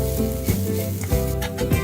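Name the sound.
ground spice paste sizzling in hot oil after mustard seeds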